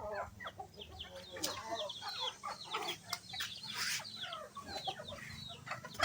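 Several chickens cluck and squawk nearby in a busy, overlapping chorus over a low background hum.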